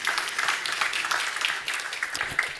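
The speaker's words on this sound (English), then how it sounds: "Round of applause. Well done." Audience applause at a Google Cloud Summit gaming session in Stockholm: dense, sustained clapping from a sizeable crowd, fairly loud and even for the whole stretch with no talk over it.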